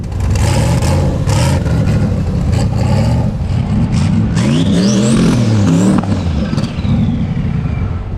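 A turbocharged 6.2-liter Camaro lines up against a Tesla Plaid at a quarter-mile drag strip, with loud, continuous engine roar and rising revs from close by filling the whole stretch.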